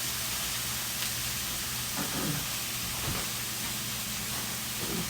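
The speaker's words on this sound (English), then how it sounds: "And then I'm also adding frozen mushrooms" Frozen mushrooms sizzle in a hot pan, giving a steady close hiss with a few soft crackles and pops rising out of it.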